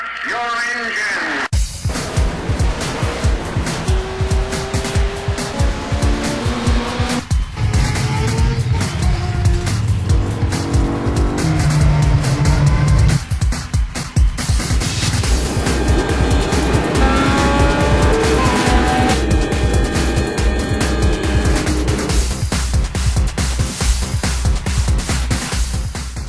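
Race car engines roar continuously in a sim racing video game, with tire squeal and skidding layered over loud, dense engine tones that shift through gears as cars pass, a voice talking intermittently over the action.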